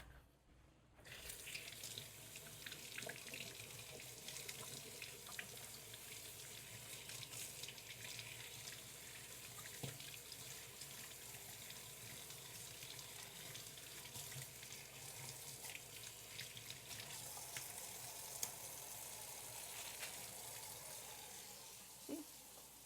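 A kitchen tap runs steadily while cassava is washed beneath it, a continuous close splashing rush with small clinks and shifts in the flow, no voices over it.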